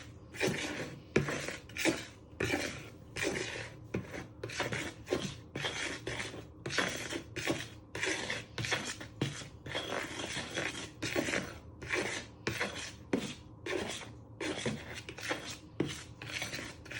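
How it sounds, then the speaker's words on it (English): Flour, ground ginger and bicarbonate of soda are mixed in a bowl with a rhythmic rasping scrape, over a dozen quick strokes repeating steadily and close up, with no voices. "you're going to just give it a little mix in the bowl with your flour, ginger and bicarbonate soda"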